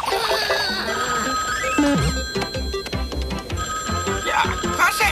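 A telephone rings in an Icelandic-dubbed Super Mario Bros. cartoon, its bell repeating over busy cartoon music and sound effects, fairly loud throughout with no talking.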